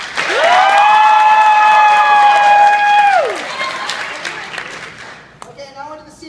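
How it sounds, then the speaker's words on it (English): At a school debate showcase, the audience votes for the sophomores by applauding. A long loud sustained cheer and whoop opens the clip, then the crowd noise fades and a few voices talk near the end. "By applause, we will decide this debate"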